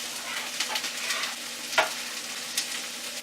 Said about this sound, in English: You're going to hear that oil is really hot.